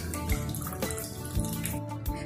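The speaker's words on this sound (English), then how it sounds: "Again I'll strain it." Water splashing and dripping as homemade chana, the curdled milk for Bengali pantua, is rinsed with cold water and strained, with a steady close trickle and a few heavier splashes, no talk.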